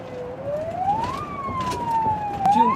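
A Korean fire engine responding to a call wails its siren loud and close, one smooth tone gliding slowly up and down over road rumble.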